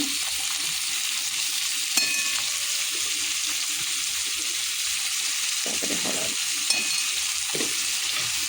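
Onion and tomato frying in a pan, a steady broadband sizzle running throughout at even loudness, with a few soft clinks and stirring scrapes near the start and again toward the end.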